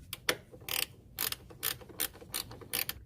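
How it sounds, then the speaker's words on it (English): A hand ratchet backs out the 10mm nuts holding the fan assembly to the radiator of a Kia Sorento, producing quick bursts of close, crisp clicking repeated about eight times in three seconds, with no talking. "Remove these two 10mm nuts holding down the radiator assembly, fan assembly to the radiator."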